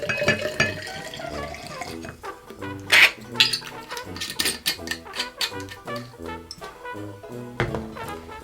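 Bourbon pours from a bottle into a cocktail glass with gurgling and splashing around the middle, amid clinks and handling noises over faint background music.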